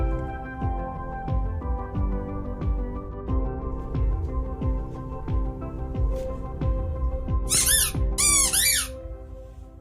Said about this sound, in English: but she loves the squeaky ball